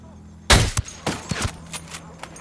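Gunfire in a tactical shooter video game during a cartel raid: one loud close shot, then a few quicker shots that fade into lighter, distant pops over a low background hum.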